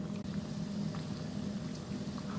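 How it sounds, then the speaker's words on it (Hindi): Shami kebabs frying in oil in a home kitchen: a steady, even bubbling sizzle that runs continuously at moderate loudness with no voices. "कबाब फ्राई हो रहे हैं।"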